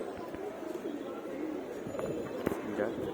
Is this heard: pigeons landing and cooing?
yes